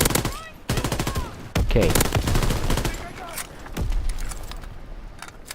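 Rapid automatic bursts from an FG-42 or M1941 rifle in Call of Duty WW2 multiplayer crack loudly and close in several strings of shots, with brief pauses between bursts and someone speaking briefly.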